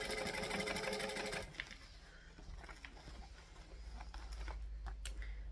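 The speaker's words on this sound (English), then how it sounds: "I'm going to top stitch this to the vinyl" A sewing machine runs in a fast, buzzing burst while top stitching onto vinyl, then stops abruptly, leaving quiet handling clicks and faint tapping.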